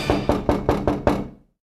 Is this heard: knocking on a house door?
yes